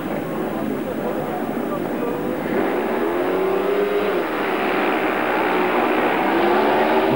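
Speedway motorcycles roar off the start of a race, a dense continuous engine drone with rising and falling pitch, steady and fairly loud, with a commentator talking over it.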